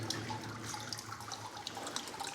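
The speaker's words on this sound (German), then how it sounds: "Schaut mal, hier läuft das Wasser durch." Water runs steadily through a channel inside a mountain bunker, a continuous faint trickling and splashing with small irregular drips throughout, no voices heard.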